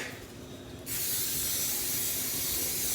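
A continuous close hiss of nonstick cooking spray starts abruptly after a short pause and keeps going steadily.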